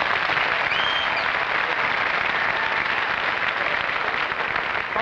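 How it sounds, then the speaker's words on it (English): Studio audience applause at a 1951 live television comedy show, a steady, dense wash of clapping that holds loud and even for the whole stretch with no talk over it. "A little applause here."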